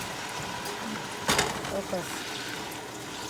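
A blended tomato, garlic and coriander mixture is poured into a cooking pot for rice and chicken, giving a brief wet splash of about half a second amid low kitchen noise while a person talks.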